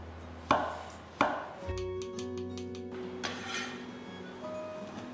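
Two sharp knife cuts through mushrooms strike a cutting board in quick succession, close and crisp, followed by quieter tonal background sounds with no further cuts.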